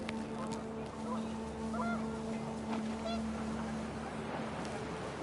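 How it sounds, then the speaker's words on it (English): Panicked geese honk in the video game What Remains of Edith Finch, heard as a few scattered calls over a steady, dense wash of wind and ambience with a sustained low tone running through. "The wind picked up, and panicked geese appeared and quickly went."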